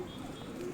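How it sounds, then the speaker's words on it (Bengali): A young pigeon on a house rooftop gives a soft, low coo, brief and faint against quiet surroundings. "এই যে আমার কবুতরের বেবি, এটাকে ছেড়ে দিয়েছি বাড়ির ছাদ চেনানোর জন্য।"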